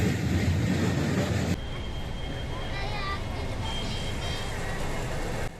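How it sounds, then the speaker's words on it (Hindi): Meter gauge passenger train pulling into a railway station, a loud rumbling roar that drops abruptly to a steadier quieter rolling hum with faint squeals of wheels. "तो ट्रेन पहुंच गई है बिछिया रेलवे स्टेशन पर।"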